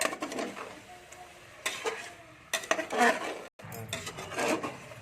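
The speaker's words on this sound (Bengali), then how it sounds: "এটা মশলাটা ভালো করে চিকেনের সঙ্গে লাগাতে হবে মানে কষতে হবে" Chicken with whole spices stirred in a pan: a spoon scrapes and clatters against the metal in uneven bursts over a light sizzle, with a brief drop to silence partway through.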